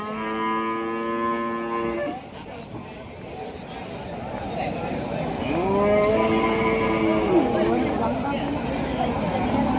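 Cattle low and moo at a busy weekly livestock market in Kundadam, with one long harmonic call near, then a second drawn-out moo over crowd chatter and people talking.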